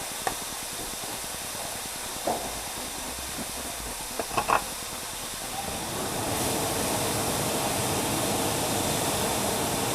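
Carrots and broccoli hit a hot stir-fry pan in a chicken stir fry, bursting into a steady, loud hissing sizzle that swells and holds, with a few clanks of a utensil earlier on.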